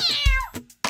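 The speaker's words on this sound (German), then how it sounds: "Eine Katze macht Miau." A single cat meow, a short rising-then-falling cry followed by a softer second sound, close and clear with no talking.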